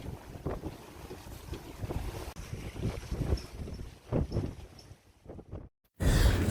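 Strong wind of about 25 knots buffets a rocking trawler in severe weather, gusting roughs and rumbles against the microphone in uneven surges, with a brief dropout before a loud blast.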